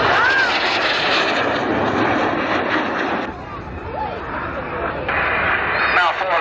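A synchro pair of airshow jets flying an opposition barrel roll at a 1991 international air display, their engines a steady broad roar throughout, dipping briefly midway then surging again as they pass.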